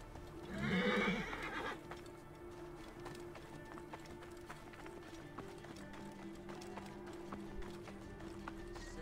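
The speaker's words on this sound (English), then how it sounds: "Got some horses." Horses in the video game Assassin's Creed Origins: a loud whinny near the start, then steady clip-clop hoofbeats and faint game ambience that continue to the end.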